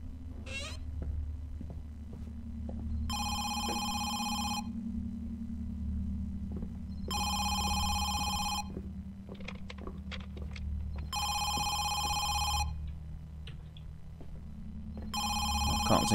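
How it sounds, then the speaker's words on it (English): A telephone bell rings in four long bursts with pauses between them, loud over a low steady hum and scattered small clicks and noises in a house, with no talking. "Need to answer that phone."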